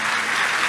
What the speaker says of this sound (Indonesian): Yang setuju boleh berikan tepuk tangan yang paling meriah buat Tuhan.